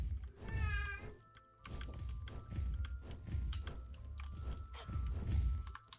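A cat gives one drawn-out meow near the start, followed by soft thumps and shuffling sounds, all fairly quiet.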